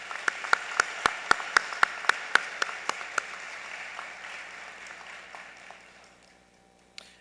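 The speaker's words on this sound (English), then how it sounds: "Let's please give them a round of applause." Applause from a university honors convocation audience for volunteer student ushers, a run of sharp, evenly spaced claps over a steady crowd clatter that fades away over several seconds.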